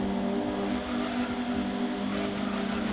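A 1990 Lotus Elan, front-engined with rear-wheel drive, drones steadily in Gran Turismo 2, its engine note holding a constant pitch throughout with no talk over it.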